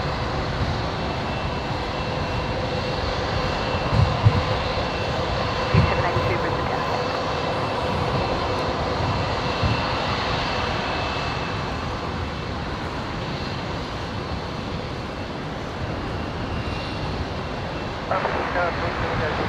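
An Air Niugini airliner rolls out after landing on runway 01 left at Brisbane Airport. Its engines give a steady, dense roar that stays loud throughout, with a few small thumps and a light whine on top.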